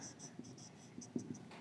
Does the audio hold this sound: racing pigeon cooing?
no